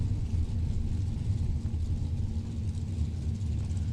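Low, steady engine rumble from a dragster at a drag race, heard from a distance at constant loudness with no clear revving.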